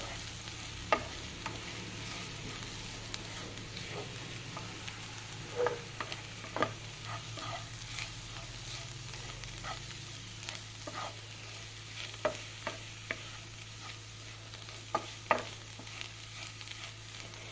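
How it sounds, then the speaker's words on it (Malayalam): Spice powders sauté in a pan for an easy egg curry, giving a soft, continuous sizzle with scattered stirring taps and scrapes throughout, no talking. "നന്നായിട്ട് വഴറ്റാം പൊടികളുടെ പച്ചമണം മാറുന്ന വരെ വഴറ്റുക"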